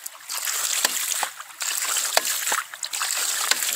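A hydraulic ram pump on a rural smallholding bangs in repeated sharp knocks at a steady rhythm, with sloshing, trickling water between beats, fairly close.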